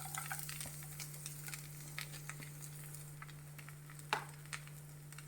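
Garlic frying in oil in a pan for a Goan-style prawn chilli fry, a soft continuous sizzle with scattered pops and a few louder clinks of stirring, heard close up over a steady low hum, without talk.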